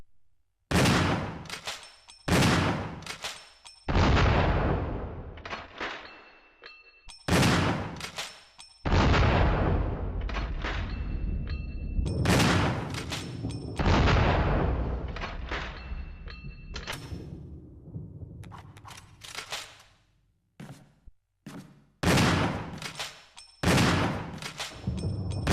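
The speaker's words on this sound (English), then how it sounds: "Now for the next weapon, the shotgun. Fires 12-gauge shells, a weapon that is capable of firing wide range." Repeated loud 12-gauge shotgun blasts from the Resident Evil REmake video game, each sharp boom followed by a decaying tail and clicks, fired in bursts with short gaps across the stretch.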